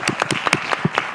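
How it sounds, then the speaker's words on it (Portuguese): A small audience at a literary festival claps briefly, with a handful of distinct, close hand claps in an uneven rhythm lasting about a second. "Uma salva de palmas para ela."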